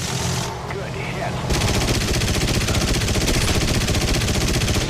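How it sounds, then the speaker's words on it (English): Bomber nose and dorsal gunners fire machine guns in War Thunder. A steady loud rattle of rapid automatic fire starts after a brief lull and runs on without a break over a constant engine drone. "So I have a nose gunner that's firing at the guy in front of me"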